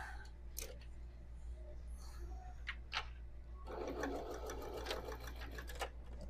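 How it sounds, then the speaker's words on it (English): A straight-stitch quilting sewing machine runs a seam with a rapid, steady mechanical chatter from the midpoint onward, preceded by a few clicks and faint handling sounds. "If you want just a really good workhorse quilting machine, you need this."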